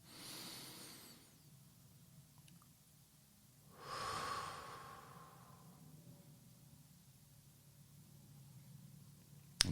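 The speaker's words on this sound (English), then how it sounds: "Deep, concentrated breaths." Deep, concentrated breaths during a guided centering exercise with eyes closed: a soft inhale-exhale at the start, then a louder, longer breath in the middle that trails off into quiet, close and alone.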